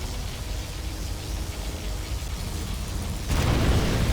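A particle cannon superweapon fires in Command & Conquer Generals Zero Hour, producing a steady roaring, hissing blast that swells into a louder, heavier burst near the end, with no talk.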